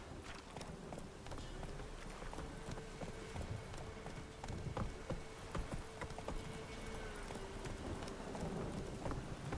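Hooves clip-clopping at a steady running pace in The Witcher 3, repeated sharp thuds over a hissing rainy background, fairly faint and continuous.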